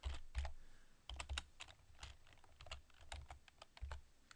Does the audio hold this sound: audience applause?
no